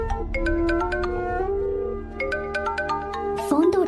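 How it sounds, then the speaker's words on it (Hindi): A phone ringtone plays a looping electronic melody of bright repeated tones in a South Indian action film, steady and fairly loud, breaking off near the end as a voice cuts in. "फोन तो उठा ले।"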